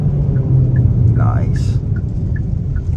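A 2024 Hyundai Kona N-Line pulls away in first gear on paddle shifters, giving a steady, loud, low cabin rumble with a few faint chirps over it.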